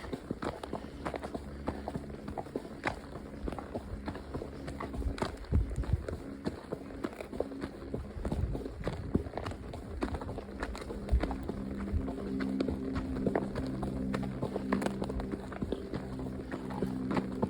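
Steady, rhythmic horse hoof beats clip-clopping at a brisk pace on a road, close by and continuous, with a low rumbling background throughout.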